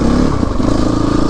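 A CrossX 300 motorcycle engine revving up close, a loud, continuous rough engine roar with a rattling mechanical edge throughout.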